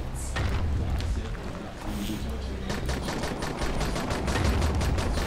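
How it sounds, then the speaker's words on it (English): Rapid gunfire from a companion's gun in the co-op zombie game Dying Light rattles in continuous quick bursts, loud and close, over a steady noisy background. "He was just firing Rice's gun at it"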